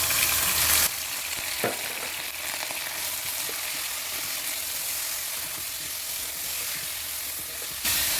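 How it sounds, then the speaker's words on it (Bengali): Beef pieces, about a kilogram of cut meat added over fried onions, sizzle steadily in a pan, a dense continuous frying hiss with a brief stir clatter, close and alone without voices. "এই গোস্তটা আমি ভালো করে বুইনে নিব"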